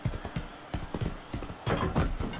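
Horse hooves clip-clop in the Motion Sports video game, a steady run of close, moderately loud hoofbeats with light background noise.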